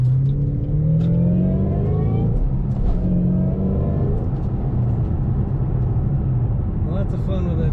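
A 2007 Ford Mustang Shelby GT500 with a 6-speed gearbox revs and pulls steadily, its tone climbing through gears in a continuous loud rumble close by.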